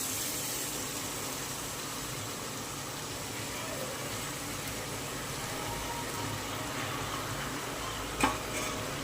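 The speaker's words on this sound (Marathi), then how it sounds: "भोवताली तेल सुटलेलं आहे यामध्ये आपण भाज्या टाकून" Vegetables for pav bhaji frying in oil and being stirred, a faint, steady sizzle with one brief clink of a utensil near the end.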